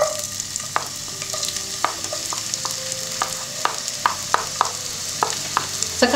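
Onion fries in vegetable oil in a pot, a steady soft sizzle underneath with occasional sharp clicks and scrapes from stirring, no voices.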